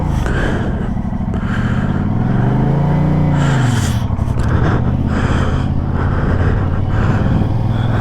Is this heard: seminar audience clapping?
no